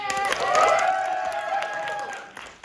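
Live comedy audience at an improvised table read makes noise, a broad wash of clapping and cheering with a few voices poking through, steady and fairly loud for a couple of seconds before tapering off.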